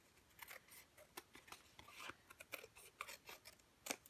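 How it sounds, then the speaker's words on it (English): A page trimmed with scissors, a series of crisp paper-cutting snips at irregular intervals, close and fairly quiet, with no talking. "I'm just trimming out my page, getting the extra off the sides, off the edges"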